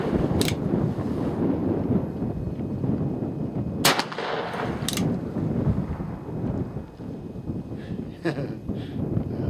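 Ruger Old Army .45 black-powder revolver loaded with a .457 round ball and a Wonder Wad, fired outdoors: a few sharp, loud shots spaced seconds apart over steady wind noise and background rumble.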